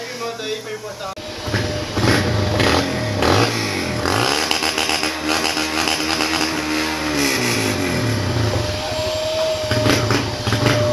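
A motorcycle engine revs up and down in sustained, rising and falling pitch sweeps, loud and close throughout, with a person talking over it.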